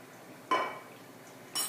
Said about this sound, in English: I'm just going to whisk that together with a little fork